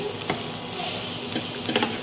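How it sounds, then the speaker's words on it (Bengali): Bottle gourd peel fries in a pan while being stirred, a steady close sizzle broken by a few sharp scraping strokes of the spatula. "তো এইভাবে নেড়ে চেড়ে লাল করে নামিয়ে নিতে হবে।"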